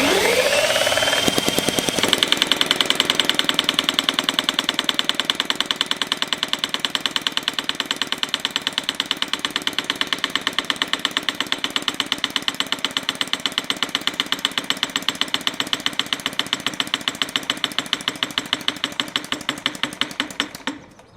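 A small homemade diesel engine starts and runs steadily for about twenty seconds, its rapid, even knocking beats close and fairly loud throughout, with no voices.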